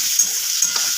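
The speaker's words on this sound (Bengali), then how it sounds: "এই দেখো কেটে রাখা টমেটোটা দিয়ে দেবো" Chopped tomato added to frying onions hisses in a pan, a brief steady sizzle with faint clicks of a utensil.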